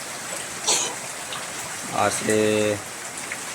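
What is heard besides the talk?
heavy rain falling in a village garden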